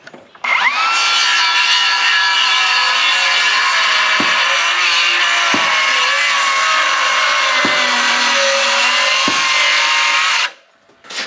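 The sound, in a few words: Bosch 18V saw ripping timber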